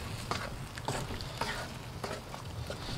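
Garlic chilli chicken sauce sizzles in a kadai firebowl on a Kamado Joe Big Joe 3 grill, as a utensil stirs it in periodic scraping strokes over a steady frying hiss, close up and without speech.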